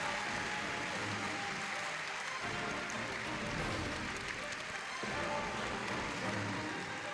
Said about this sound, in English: let's have one more round of applause for our panelists